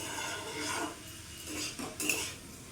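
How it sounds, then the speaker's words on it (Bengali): Potato and papaya pieces are stir-fried with spices in a pan. A utensil scrapes and clinks against the metal in a few soft, close strokes, with no talking. "এবার 2-3 মিনিট আমি কষিয়ে নেব।"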